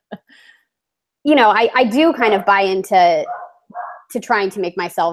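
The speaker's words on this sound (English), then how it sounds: "sorry, that's my dog. I don't know if you guys can hear that." A dog barks several times in the background while a person keeps talking close to the mic, the barks partly buried under the speech.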